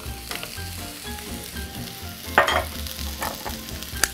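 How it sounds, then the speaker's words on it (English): Steady loud sizzling of mushrooms sautéing in a hot pan over medium heat, with occasional scraping stirs and pops, close up and without any voices. "Hear the sizzle."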